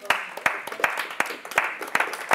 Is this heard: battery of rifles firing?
no